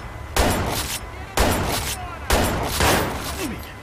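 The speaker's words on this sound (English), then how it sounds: "I hit him like 5 times with a shotgun." Shotgun blasts in the video game Watch Dogs, three heavy booming shots spaced about a second apart, each with a ringing decay, loud and up front.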